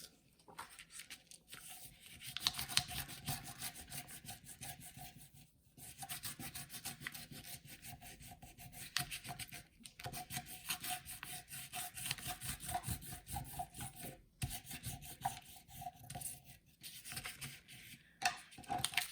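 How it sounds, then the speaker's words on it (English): Crayon rubbed over leaves laid under paper, a close, quiet, continuous scratchy rasping in quick back-and-forth strokes with short pauses, no voices. "let's try rubbing our leaves"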